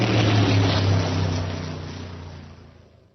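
A car passes on a city street, a loud engine roar near at first, then fading steadily as it moves away, with no voices.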